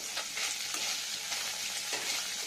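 Rui fish frying in hot oil seasoned with salt and turmeric, a steady dense sizzle with faint crackles running the whole time, close and even, no voices.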